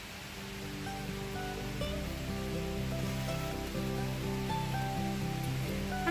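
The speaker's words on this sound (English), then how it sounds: "On second thought, here comes the rain now." Rain falls steadily on the Appalachian Trail in Connecticut, a continuous broadband hiss, even and fairly close, with a soft musical tone underneath and no talking.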